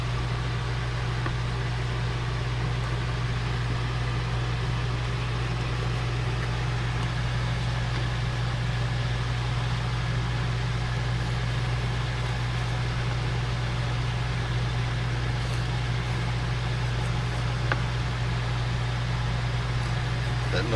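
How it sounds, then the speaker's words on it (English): An RV air conditioner runs on a 103-degree day at Willow Beach, Arizona, giving a steady, unbroken mechanical drone with a low hum and an even hiss that holds for the full stretch. "That noise you hear is the air conditioner because it's 103 degrees out here."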